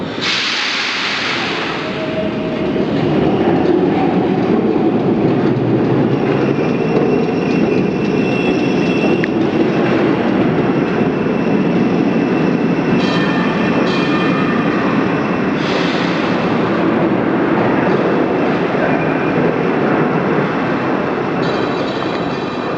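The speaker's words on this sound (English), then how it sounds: "this one actually runs in the street like a traditional tram system" An Auckland Dockline tram running along a street rolls past with a loud, sustained rumble and hiss, plus brief metallic squeals from the wheels, and stays close for over twenty seconds with no speech.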